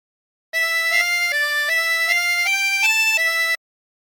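Harmonica playing a short phrase of God Rest Ye Merry Gentlemen with single blown and drawn notes, about seven sustained tones in steady succession, clear and close with no talking.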